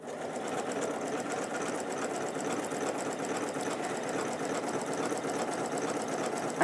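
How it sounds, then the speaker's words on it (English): An Elna 780+ sewing machine runs continuously at a steady, even pace, its fast needle rhythm and motor hum close and unbroken throughout while sewing a cushion cover. "And start to sew."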